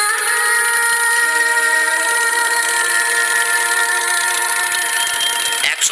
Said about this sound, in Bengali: আমির ফাঁকা রাস্তা দিয়ে জোরে বাইক ছোটাতে লাগলো।